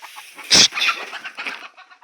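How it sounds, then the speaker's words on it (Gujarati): Hens cluck inside a coop where they scratch through maize husk, with one sharp squawk followed by several softer, scattered clucks close by. "જોઈ લો અંદર આ મરઘીઓ શું કરે છે"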